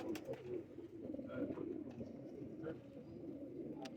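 Several fancy pigeons coo in a low rolling murmur that carries on steadily, close and moderately loud, with a few faint clicks and wing or perch noises mixed in.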